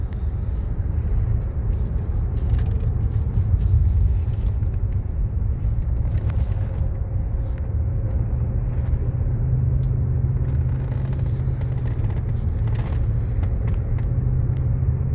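A Cadillac just back from repair drives along the road, its engine and road noise forming a steady low rumble inside the cabin, with small shifts in pitch as the transmission changes gear.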